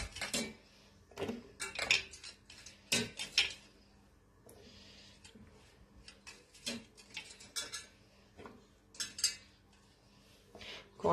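Cauliflower pieces being mixed by hand into a masala marinade inside a metal vessel for cauliflower dum biryani, giving scattered clinks, scrapes and soft knocks in irregular bursts, close up, with no talking.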